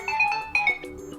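The Kitty ringtone on an LG Q60 phone plays as a bright, bouncy melody of short repeated electronic notes, clear and close throughout.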